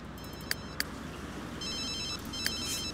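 Electronic phone ringing from a life-simulation video game, with short chiming rings over a steady background music bed, faint and repeating a few times.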